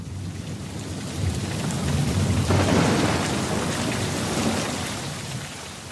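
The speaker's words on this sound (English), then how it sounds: "The rain started to pour down in sheets of water." A thunderstorm with heavy rain, a steady dense roar of rainfall swelling into a loud rolling thunder rumble midway, then settling back into the downpour with no voices.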